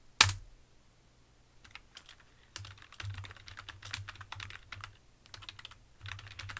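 Computer keyboard typing, quiet bursts of rapid key clicks with short pauses between them, close and alone without talk.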